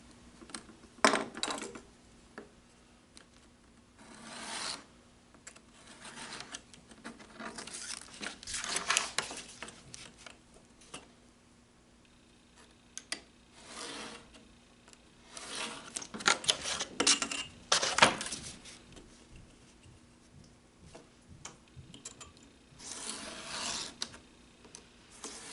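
Scissors or a blade cut covering material for square-back case binding boards in several separate bursts of close rasping and rustling, with quiet pauses between the cuts.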